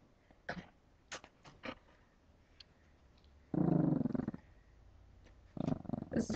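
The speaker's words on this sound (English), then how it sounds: "Puppies have to ruin everything by being so cute and killer, growling at everybody." A puppy growls and grumbles in short rough bursts, with two longer, louder growling spells, close by in a quiet setting with a low background rumble.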